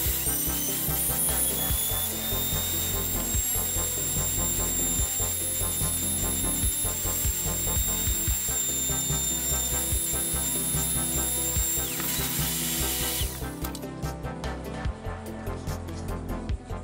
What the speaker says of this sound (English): I'm going to use my Dremel tool.